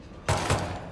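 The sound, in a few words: pistol shot in Hitman 3 video game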